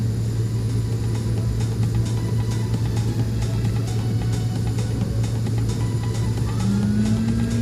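The engines of a B200 aircraft in a flight simulator game drone steadily during takeoff as a constant loud hum and rumble, with no talking.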